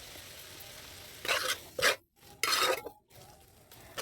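Small pieces of meat are fried in a little oil, with a faint background sizzle broken by a few loud bursts of scraping and stirring in the pan, separated by brief silent gaps.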